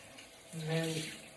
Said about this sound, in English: I've got the cold running there.